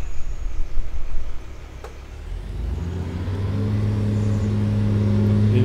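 A tractor engine in Farming Simulator 19 on a North Frisian marsh map, starting up and settling into a steady, loud, low drone that builds gradually, with no talking over it.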